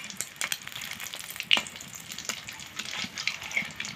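Papad rolls deep-frying in hot oil, a steady close bubbling sizzle with scattered crackles and pops and a brief louder splash of oil, with no talk.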